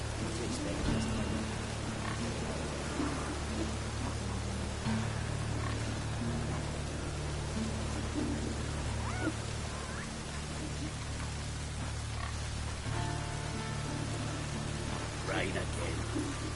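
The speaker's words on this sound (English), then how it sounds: "Rain again." Steady rain in the Witcher 3 video game, a continuous even hiss of falling drops holding at moderate level throughout, with faint ambient game sounds beneath.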